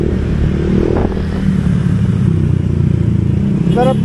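A motorcycle passes along a street, its engine rumble loud and continuous throughout, with a brief higher whine near the end and traffic clatter underneath.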